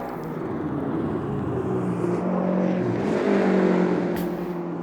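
McLaren M6 race car engine in Automobilista 2 drones steadily at a sustained high pitch on the historic Kyalami circuit, loud and continuous with slight rises and falls in revs and no talking.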